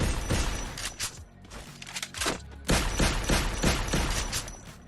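An M1014 Evo shotgun fires in a video game, with a rapid run of loud, punchy blasts and a brief pause partway through.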